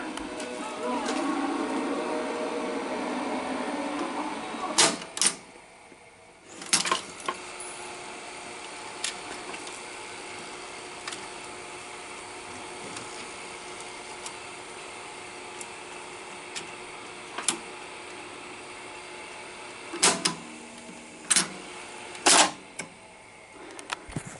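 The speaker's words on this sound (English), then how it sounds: "It's really struggling to thread the tape" A Sony SL-7200 Betamax VCR with worn belts struggles to thread its tape, giving a steady mechanical whir broken by scattered sharp clicks and clunks from the transport mechanism, close and fairly quiet.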